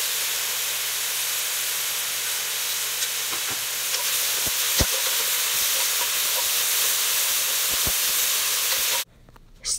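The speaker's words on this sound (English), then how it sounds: "Fry spinach slightly." Spinach frying in a pan gives a steady, close, broadband sizzle and hiss with a few faint clicks of stirring, continuous until it cuts off near the end.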